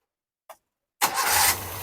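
A car engine with a heavy starter, in hot conditions: a brief click, a short pause, then the engine catches quickly and settles into a steady idle, close and moderately loud.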